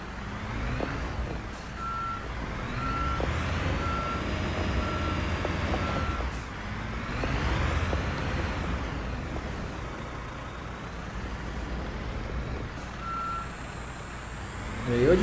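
Construction Simulator 2022 game: a truck parking a trailer sounds steady reversing beeps over a continuous engine drone that rises and falls with the throttle, and a hiss of air brakes comes near the end.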